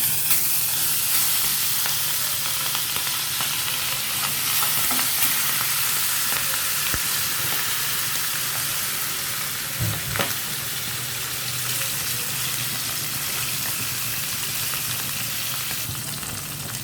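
Steady, dense sizzling of hilsa fish frying in hot oil in a wok over lowered heat, a continuous crackling hiss throughout with a brief louder spatter partway through.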